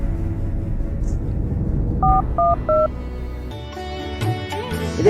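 A phone being dialed: three short, clear keypad tones in quick succession over a low rumbling background, followed by a brief burst of electronic ringing or line tones at the end.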